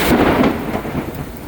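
Loud thunder rumbles through a heavy thunderstorm over Chinatown in New York City, a deep rolling crash with rain hissing steadily underneath.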